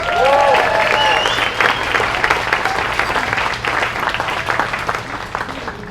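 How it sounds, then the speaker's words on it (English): An audience applauds steadily for several seconds, loud at first and gradually thinning out, with a few voices mixed in. "How about a little applause for all our students?"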